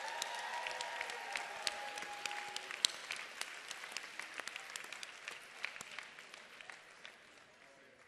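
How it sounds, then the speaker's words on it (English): Applause from an audience at a kids-only press conference honoring an NHL veteran, a sustained round of clapping with sharp individual claps, fading toward the end. "Having a big round of applause for Jamal Mayers."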